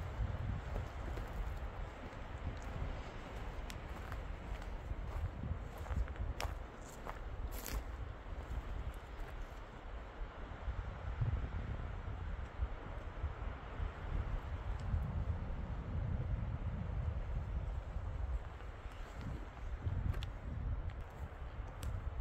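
Breeze blowing steadily at the rim of the Grand Canyon at about 9,000 feet, a low continuous rush with a few soft knocks and faint rustles and no talking.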